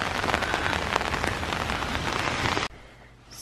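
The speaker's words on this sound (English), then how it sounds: "It's raining heavy now." Heavy rain pounds steadily on a surface with a dense, loud hiss close by, then cuts off abruptly near the end, leaving quieter background.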